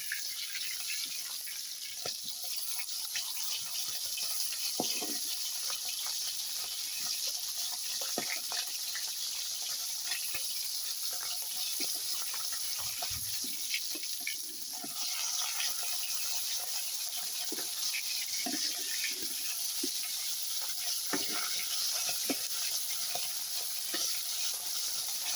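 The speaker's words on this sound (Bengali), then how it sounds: "তো মাছটা ভাজা ভাজা হচ্ছে" Fish fries in a pan with a steady, continuous sizzle and crackle at close range, with occasional light stirring or scraping sounds and no talking.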